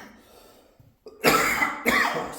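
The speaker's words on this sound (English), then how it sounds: "Got a cough yet" A person coughs twice, close and loud, in quick harsh bursts after a quiet breath, with a sick, rough edge.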